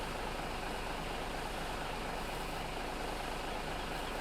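Steady, loud, unbroken engine drone of an articulated Big Bud tractor in Farming Simulator 17, with a dense low rumble and no breaks or talk.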